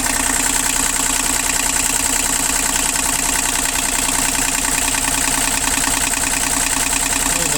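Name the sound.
Japanese mini excavator engine idling quietly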